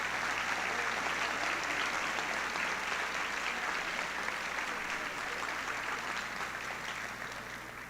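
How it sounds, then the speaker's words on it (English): Sustained applause from a school audience for students at a high school class night ceremony, dense and steady throughout, tapering slightly at the end with no talk over it. "Let's give these students a round of applause."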